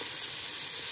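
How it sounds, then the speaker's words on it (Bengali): Shrimp frying in a pan with flat beans, cauliflower and potatoes, giving a steady, close, even sizzle with no talk. "শিম আর ফুলকপি আলু দিয়ে চিংড়ি মাছটা করছি।"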